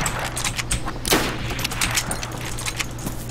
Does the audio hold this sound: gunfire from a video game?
yes